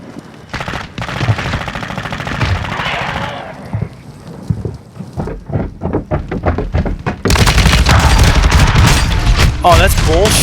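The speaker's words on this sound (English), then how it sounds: "I'm unloading on you with a fucking full mag" Dense automatic gunfire in Call of Duty Warzone (Modern Warfare 2), rapid bursts and thuds building into a loud sustained volley toward the end, mixed with game noise and talking players.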